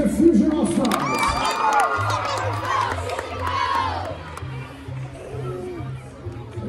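Crowd cheering and shouting at a cheerleading competition awards ceremony, a loud sustained roar of voices with children's shrieks throughout.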